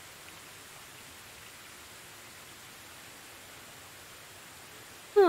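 Steady, soft hiss of rain in the medieval survival game Medieval Dynasty, an even wash of falling drops throughout with no voices, cut off by a brief louder sound at the very end.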